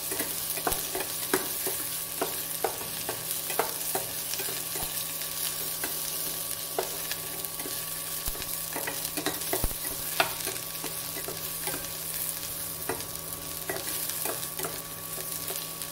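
Onion frying lightly in a pan while a spatula stirs it, a steady close sizzle broken by frequent sharp scraping strokes throughout.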